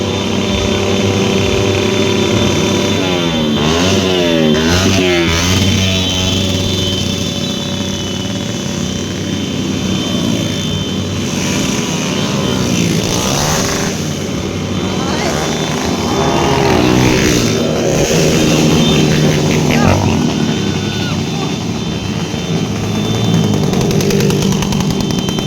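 Motorcycle engines roaring loudly and continuously at a New Year celebration, with rising and falling revs that sweep up and down over a sustained, rumbling drone.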